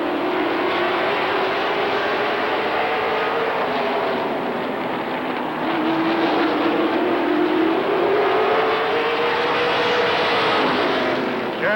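Race cars roaring around Rockford Speedway, a steady loud engine drone with pitch rising and falling as the field passes, continuous for the whole stretch without any talk.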